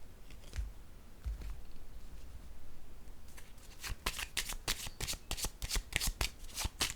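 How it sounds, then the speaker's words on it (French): Cards for a card reading are shuffled, handled and laid down, giving close papery rustles that build into fast, crisp riffling flutters and slaps. "je vais déposer une autre carte"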